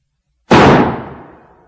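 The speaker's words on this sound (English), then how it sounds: "He took a revolver from his pocket and shot himself through the mouth." A single revolver gunshot in a radio drama, a sharp, loud crack out of silence that decays over about a second.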